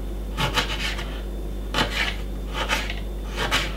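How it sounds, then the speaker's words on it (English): A knife cuts a small piece of fresh ginger at a juice bar counter in four short, separate scraping strokes against a board, close and alone over a steady background hum. "just cut up a little piece of a ginger and put it straight inside of it like this"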